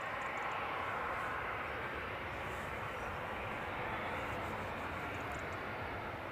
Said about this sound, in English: I'm just going to put us on the Ryanair that's nudging out here